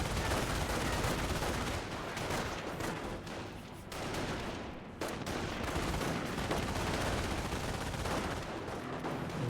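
MG42 machine gun fire in the real-time strategy game Company of Heroes, dense continuous bursts of rapid gunfire mixed with other shots, loud and unbroken battle noise.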